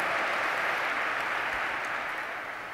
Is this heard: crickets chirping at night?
no